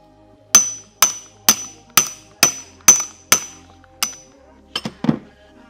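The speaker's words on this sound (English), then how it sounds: "I'm just gonna knock it out the rest of the way with a hammer." A hammer knocks a bearing race out of a shock linkage, striking in eight sharp, ringing metallic blows at an even pace, followed by a few lighter, quicker taps.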